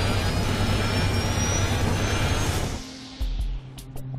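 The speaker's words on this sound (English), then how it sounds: "the plane goes into a stall" Steady roar of an airliner's engines on a stalling aircraft, loud and broadband, dropping off abruptly partway through and leaving a quieter rumble with a few faint knocks.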